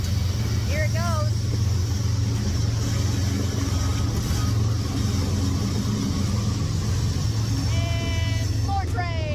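The second half of a long freight train rolls past near the Zero Mile Post in Atlanta, a steady heavy rumble with squealing wheel or brake tones at the start and end. A voice talks over it.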